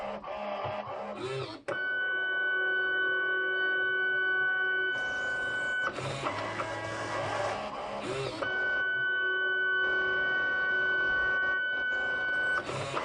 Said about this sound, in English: So if we go back over to the printer, it's going to be printing a card.